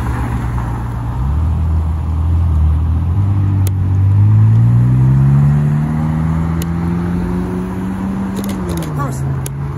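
A McLaren 600LT supercar drives by on the streets of Alderley Edge, its loud engine note swelling and rising in pitch as it passes, with people talking nearby.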